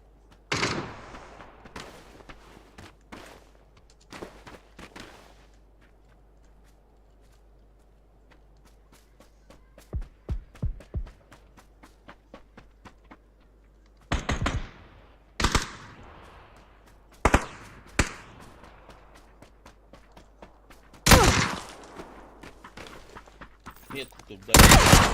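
Gunfire in PUBG, with sharp individual shots and short bursts scattered across a long stretch, some loud and close, others fainter, alongside footsteps and quieter game ambience.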